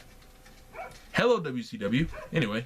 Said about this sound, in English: Sorry if you guys hear a dog barking in the background.